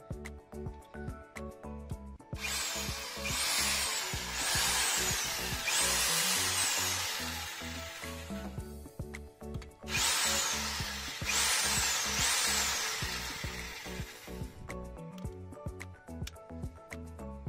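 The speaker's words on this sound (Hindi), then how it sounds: "करने के बाद आपने ड्रिल चलानी है। चलें प्लीज़ चलाएं।" A power drill bores a hole into a roof for a rawl bolt in two long, loud runs with a rattling, pulsing whine, broken by short pauses and ticking, close up with no talking.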